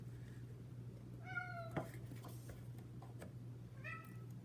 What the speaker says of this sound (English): We'll ignore my cat in the background. Can you hear him? He always gets so loud at night.